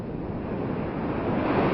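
Big surf rolls in at Makaha Point beach, a steady roaring wash of breaking waves mixed with wind buffeting the microphone, loud and continuous.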